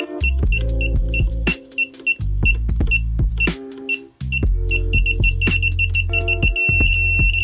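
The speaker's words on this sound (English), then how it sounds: "it's consistently beeping here and it's red" A Klein digital circuit tracer gives repeated electronic beeping tones that pulse steadily over a low, constant hum, with brief gaps before the beeps resume and continue alone.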